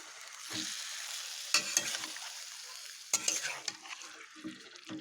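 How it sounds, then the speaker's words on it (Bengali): Boiled taro leaves being stirred and mixed in a pan after a tempering, a quiet frying hiss broken by a few sharp scrapes and clinks of the spoon, no voices. "সেদ্ধ করা কচুর শাকগুলোকে এদিকে একটু ভালো করে মিশিয়ে নিচ্ছি।"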